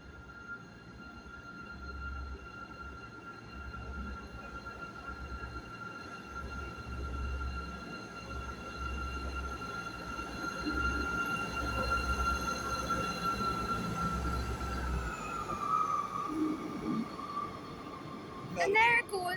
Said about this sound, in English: Off departs the 11:58 ScotRail service to Dundee starting here, formed of 158736